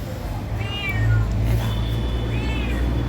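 A cat meows several times on a small rooftop garden, thin rising calls sounding moderately close over a steady low background hum, with no talking.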